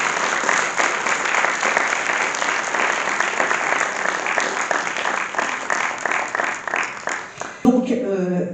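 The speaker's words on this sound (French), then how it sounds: "Je pense qu'on peut vous applaudir pour ce très beau livre" Audience applauding an author's book at a reading event, a loud, dense and steady burst of clapping from many people that fades near the end as a voice begins to speak.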